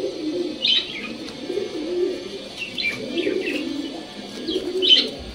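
Garra racer pigeons coo in low, rolling phrases that repeat every second or so, close by, with faint higher chirps and light flutters around them and no talking.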